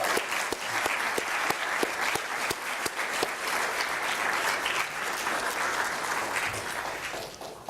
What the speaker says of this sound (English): acknowledge each other with a round of applause